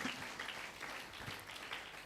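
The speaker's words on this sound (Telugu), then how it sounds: "అర్థమైన వాళ్ళు చప్పట్లు కొట్టండి" Quiet, scattered clapping from a church congregation during a sermon, soft and distant, lasting only a couple of seconds.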